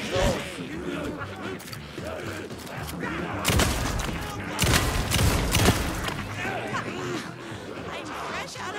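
Several gunshots from a handgun in Alan Wake 2's Night Springs, loud sharp bursts spread through the middle of the stretch, mixed with game noise and a person talking throughout.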